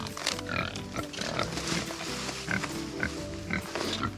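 A pig on a farm grunts and oinks repeatedly at close range, with short snorting bursts over a constant rumbling background.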